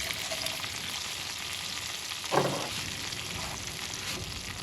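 Lobster fries in a pan on camp stove burners during truck camping, a steady close hiss of sizzling fat with a brief clink of tongs or metal partway through.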